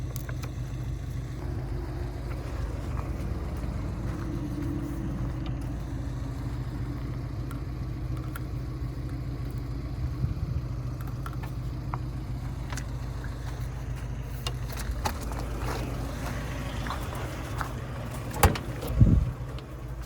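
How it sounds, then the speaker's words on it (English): A VW diesel engine swapped into a Suzuki Samurai runs with a steady low rumble throughout, close and continuous, with a few brief knocks and a louder burst of clatter near the end. "we're gonna crank on it a little bit"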